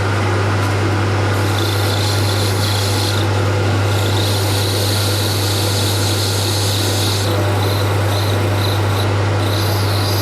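A Jan Zander design fountain pen is being sanded, producing a continuous abrasive rasp that comes in uneven bursts over a loud, steady mechanical hum.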